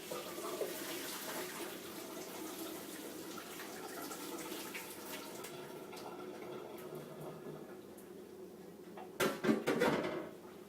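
A heavy, hot pot of boiled noodles is poured into a strainer in a home kitchen: a steady wash of running water and liquid splashing fills most of the stretch, ending in a louder burst of splashing and clatter near the end.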